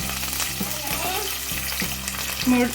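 Mustard seeds, green chillies, curry leaves and crushed garlic sizzle in hot oil for mango pulihora, a steady loud crackle broken by regular scrapes and clicks of stirring.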